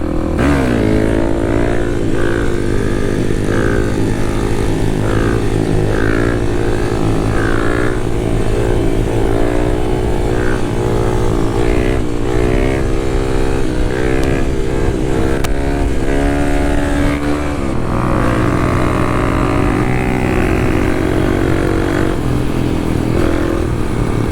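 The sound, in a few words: Kawasaki KLX dual sport motorcycle riding and wheelie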